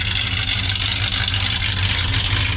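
A 1970 Plymouth GTX wagon engine idles outdoors in cold weather, a steady, close low rumble with an even exhaust pulse and no talk.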